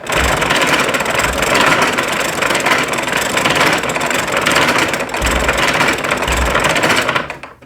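A homemade mechanical calculator is cranked by hand, giving a steady, loud mechanical whirring and clattering that runs continuously for several seconds, with a few heavier low thumps, before stopping abruptly at the end.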